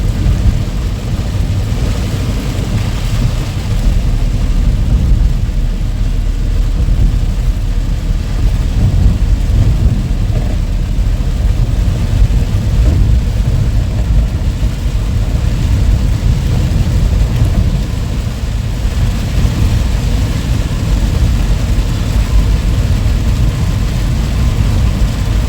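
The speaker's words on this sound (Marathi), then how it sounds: "आणि हा पाऊस बघा आता." Heavy monsoon rain pours steadily over Mumbai traffic near Siddhivinayak temple in Dadar, with low rumbling thunder and passing vehicle noise blending into a continuous loud wash.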